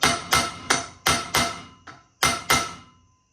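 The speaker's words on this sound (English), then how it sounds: "Tap it a bunch on the weld yoke a bunch." Sharp metallic hammer taps on the weld yoke of a custom Nissan Skyline driveshaft, eight close strikes in an uneven rhythm, one noticeably lighter, each ringing briefly before fading.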